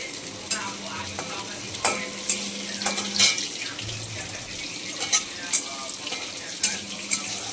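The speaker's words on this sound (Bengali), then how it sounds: "আমি একটা শুকনো লঙ্কা দেব ফোড়নে, আর সাদা জিরা।" One dried red chilli and white cumin seeds fry in a little hot oil, giving a bright, close sizzle broken by repeated clicks and scrapes of stirring.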